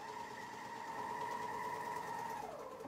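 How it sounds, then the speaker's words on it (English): A BERNINA sewing machine stitches along a fabric edge, giving a faint, steady motor whine with a fast stitching hum that winds down at the end. "And I'll just sew that."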